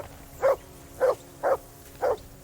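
A dog barks four times at an even pace in a medieval village in the video game Kingdom Come Deliverance 2, each bark short, moderately loud and alone over a quiet background.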